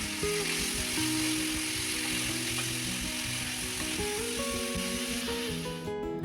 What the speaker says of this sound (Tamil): தக்காளி நல்லா வெந்து பச்சை வாசனை போகிற வரைக்கும் வதக்கிக்கணும்